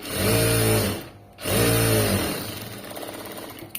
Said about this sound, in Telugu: స్టిచ్చింగ్ చేసేయండి.